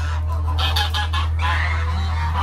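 Chinese geese being fed on a farm in Nigeria, honking and clucking repeatedly at close range over a steady low hum, with several birds calling in short bursts.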